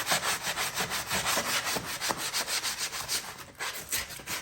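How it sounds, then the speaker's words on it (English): A small hand sanding block rubs back and forth across a wooden vintage bathroom mirror frame in quick, rhythmic strokes, close and steady with no talking. "we're just gonna do this and sand it with a hand sander here"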